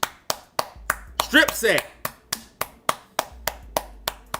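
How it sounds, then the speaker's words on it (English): A grandson claps in the background with steady, evenly spaced sharp claps about three per second, continuing under someone briefly talking. "My grandson was clapping in the background"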